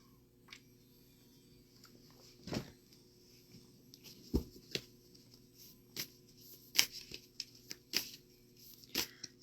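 Tarot cards shuffled by hand at close range, a string of soft riffling flicks and sharper snaps that grow busier toward the end, over a faint low background hum and no voices.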